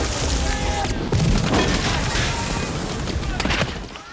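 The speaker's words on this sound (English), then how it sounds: "The sound of bullets fly from one speaker to the next" Dense battle gunfire from the Saving Private Ryan combat scene, rapid overlapping rifle and machine-gun bursts with booming impacts, loud and continuous, with voices faintly mixed in.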